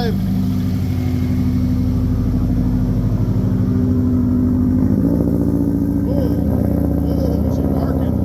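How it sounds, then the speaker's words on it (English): A freshly built drift car engine, just started with the check engine light flashing, revs with a loud, close, choppy bark, its rumble rising and falling in uneven bursts through the second half. "Oh, she's barking."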